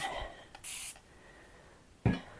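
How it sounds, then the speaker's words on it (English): A handheld spray bottle mists water onto acrylic paint, giving two short hissing bursts, the second heavier and ending in a soft thump, with quiet room tone between. "So we're going to spray it again."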